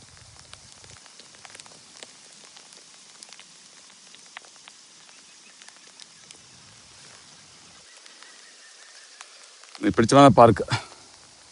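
Rain mixed with hailstones falls in a park, a soft, steady patter and scattered ticks heard from a distance, with a person briefly talking near the end.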